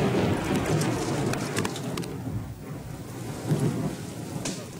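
Steady rain pours down during a thunderstorm while rumbling thunder rolls through, with a few sharper cracks and a loud, continuous wash of rainfall throughout.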